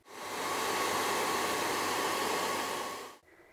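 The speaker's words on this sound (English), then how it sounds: "I'll blast it with a hairdryer for a few minutes just to make sure that it is." A hair dryer blows steadily over a watercolour painting with a loud, even whooshing roar for about three seconds, then cuts off abruptly, leaving a faint hum.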